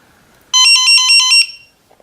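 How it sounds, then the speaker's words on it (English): The alarm of an ISDT BG-8S battery checker gives one loud, close, electronic pulsing ring lasting about a second, then stops, with near silence on either side. "So it seems the alarm just only rings when the screens turn on."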